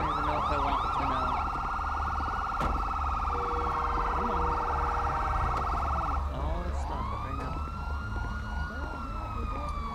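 Emergency vehicle siren from a video game crime scene unit mod, left wailing on a parked car by mistake, sounding continuously and loudly throughout with a pitch change midway.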